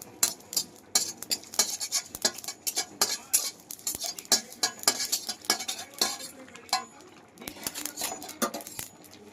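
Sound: frying and stirring cumin and dried red chilies in a pan

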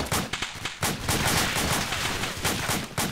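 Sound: machine gun fire in a video game

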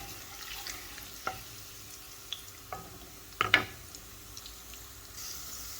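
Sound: garlic frying in oil until browned

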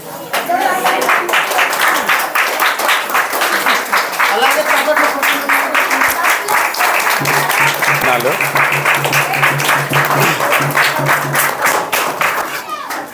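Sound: church audience applauding at Christmas felicitation

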